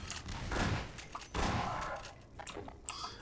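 Bursts of gunfire and heavy thuds from a firefight in the video game Half-Life 2: Episode One, a few loud rushing blasts followed by scattered sharper cracks, moderately close.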